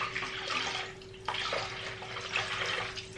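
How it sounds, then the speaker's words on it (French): Decanted water from washed-flour seitan dough poured into a sink, a close rushing splash that surges, dips briefly and swells again over a faint steady hum, with no voices. "Donc ça, je vais renverser dans l'évier."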